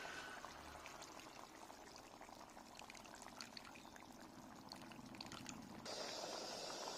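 Tamarind juice pours into a simmering Godavari koyyanga fish curry (pulusu), a steady, soft liquid stream that runs for several seconds over a faint kitchen hiss.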